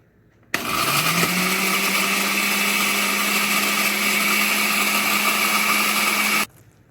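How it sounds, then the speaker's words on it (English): A blender pulverises dry peppers for Ghanaian shito, starting abruptly with a loud, steady high-pitched whine and a low motor hum that holds without a break for about six seconds, then cuts off. "I'm going to blend them together"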